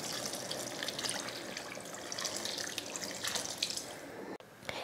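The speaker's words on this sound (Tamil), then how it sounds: "இப்போ குழம்புக்கு தேவையான தண்ணி ஊற்றிடலாம்." Water poured steadily into a pot of Tamil kulambu curry with black-eyed peas and vegetables, a continuous splashing gush close by that stops abruptly near the end.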